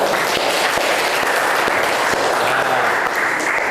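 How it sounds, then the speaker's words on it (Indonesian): A classroom group claps for themselves at the end of a timed activity in a teaching-practice lesson, a dense, steady burst of many hands that stays loud and even from start to finish. "kita tepuk tangan untuk diri kita semua"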